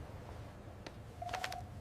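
Telephone keypad tones as a phone is dialed in a drama scene, a few short beeps, the last ones coming in a quick cluster near the end, fairly quiet against a low background.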